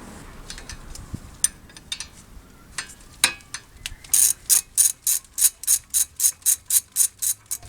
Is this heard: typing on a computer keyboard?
no